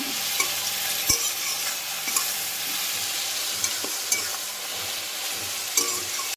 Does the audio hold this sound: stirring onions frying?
yes